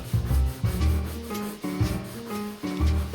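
Sandpaper rubbing across the brittle surface of a 47-year-old leather couch, rhythmic back-and-forth scratchy strokes, loud and close, with no voices.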